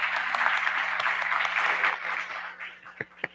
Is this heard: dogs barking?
no